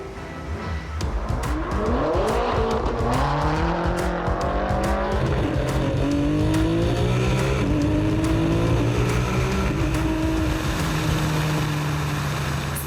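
Loud race car engines roar and rev continuously at a quarter-mile drag race, rising through gears, with tires squealing and skidding up close throughout.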